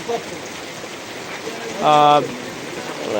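Steady rain hissing throughout, with a brief voice or tonal sound rising over it midway.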